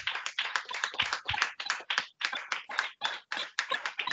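Congregation at a worship service clapping in rhythm, with dense, fast, close claps continuing throughout, no talk heard.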